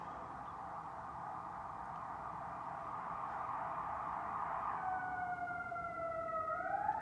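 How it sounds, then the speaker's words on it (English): Emergency vehicle sirens sound from a distance, a steady wail that grows louder as a second siren tone joins and sweeps higher toward the end. "Oh, I don't like the sound of those sirens."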